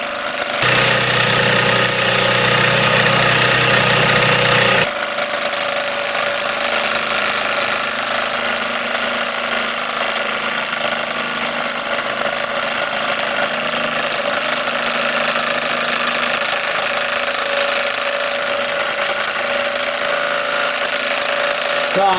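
A steam engine runs with a loud, steady, dense wash of mechanical noise that shifts character after the first few seconds and then holds continuously, close by, with no voices.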